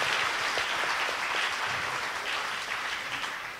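Applause from an audience at a live performance, a steady wash of many hands clapping that slowly fades, with a few sharper claps standing out.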